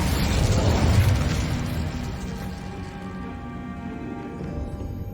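An Incendio fire spell cast in Hogwarts Legacy: a loud whooshing burst that flares quickly and then fades into a softer, lingering crackle over several seconds.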